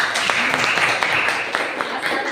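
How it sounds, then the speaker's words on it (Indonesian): A classroom applauds group 4 after its presentation in a brief burst of moderate clapping, with voices mixed in over the claps. "tepuk tangan dulu untuk kelompok 4"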